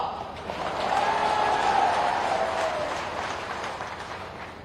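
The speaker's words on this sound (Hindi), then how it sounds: "ऐसे नहीं, कोरोना की ताली बजा।" Crowd clapping at a Shivraj Singh Chouhan political rally, a dense wash of applause that swells to a peak midway and then slowly fades, with no voices standing out above it.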